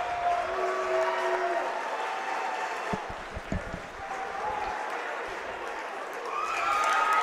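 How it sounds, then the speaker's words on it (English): Crowd applauding and cheering in a gymnasium at a high school wrestling tournament, steady broad applause that dips briefly mid-way and swells again at the end, with faint announcer-like voices underneath. "As you see Del Barton cheering for another win."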